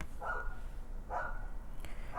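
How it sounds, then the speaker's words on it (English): Dogs bark at a distance, two spaced bursts and a third starting at the end, faint over a steady background hiss. "Dogs are barking."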